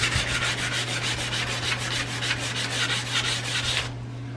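Rusty drip rail on an old Dodge being hand-sanded with 180 grit sandpaper: rapid, even back-and-forth rasping strokes, close and loud, stopping abruptly near the end over a steady low hum.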